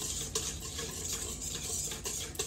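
A spoon stirs granulated sugar and yeast together for a dough mixture, a soft scraping swirl with a few light clinks against the bowl, quiet and close.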